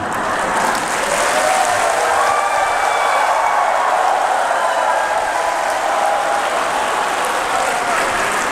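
At a Catholic Holy Spirit gathering in a large Seoul hall, the crowd claps loudly and continuously, a thick wash of applause that holds at an even level throughout with no speech over it.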